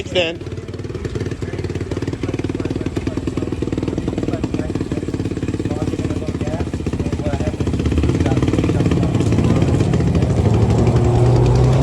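An XPRO 125cc pit bike idles in neutral nearby with a loud, rapid, steady engine putter that grows slightly stronger partway through, while people talk over it.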